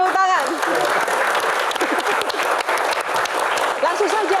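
Audience applause at a live Indonesian comedy Q&A show, dense clapping that fills the whole stretch at steady loudness with some crowd noise and a voice briefly over it near the start and end.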